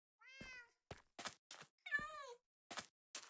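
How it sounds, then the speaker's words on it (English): A black cat in Minecraft gives two drawn-out meows between several short clipped sounds, quiet and evenly spaced with silence in between and nobody talking. "this is my cat, black cat."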